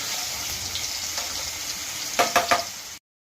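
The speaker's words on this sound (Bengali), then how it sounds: "একটা দিক ভাজা হয়ে গেছে আর একটা দিক ভাজা হচ্ছে।" Paneer tikki sizzling in hot oil, a steady close frying hiss with a few sharper crackles and utensil scrapes near the end before abrupt silence.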